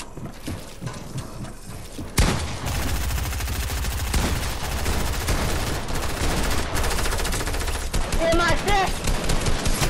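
Video-game machine gun fire in rapid sustained bursts, loud and dense, with a brief break early on and a crackling mechanical texture; faint voices come through toward the end.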